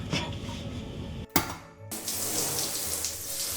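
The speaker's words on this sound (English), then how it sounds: "We push it this way, and now it's a shower." A shower runs in a small sleeper train cabin on an Arctic overnight route to Lapland, a hard clunk as the fixture is pushed into place, then a loud, steady, close hiss of spraying water.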